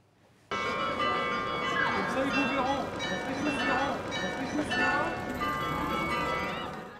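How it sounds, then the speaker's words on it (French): Carillon bells of the Lille cathedral belfry ring out in a loud, overlapping cascade of bright tones, starting abruptly after a brief quiet moment and continuing steadily to the end. "Les passants peuvent apprécier le son du carillon du beffroi de la cathédrale de Lille"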